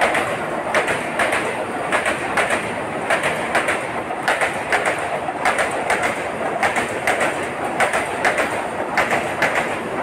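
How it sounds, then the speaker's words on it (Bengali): A train pulls into the platform at Rampurhat station, its wheels beating a loud, regular clickety-clack rhythm over the rail joints, with birds calling in the background and no voices. "তো ট্রেন আমাদের চলে এসছে।"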